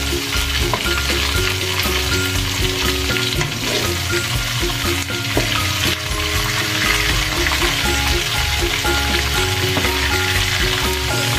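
Calamari frying in a pan: steady, dense sizzling and crackling oil fills the whole stretch at close range, with occasional stirring sounds and no talk.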